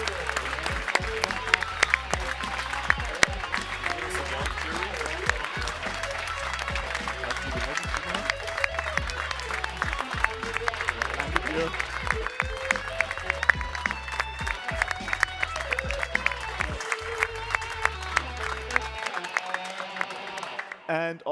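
A large conference audience claps at an awards moment on the center stage, with dense, continuous applause lasting about twenty seconds before it cuts off abruptly.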